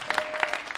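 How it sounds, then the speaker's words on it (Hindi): Short burst of audience applause at a mushaira, an Urdu poetry gathering, for the organizing committee, with a few distinct claps rising above a steady patter. "एक बार जरा मुशारा कमेटी के लिए ताली बजा दीजिए"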